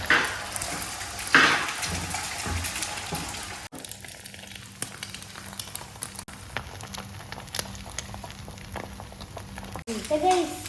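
An egg frying in hot oil in a home kitchen, a steady soft sizzle and crackle running throughout, with a few louder clatters and scrapes and a voice speaking over it.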